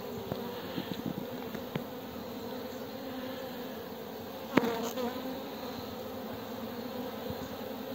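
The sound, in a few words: honeybees buzzing at hive entrance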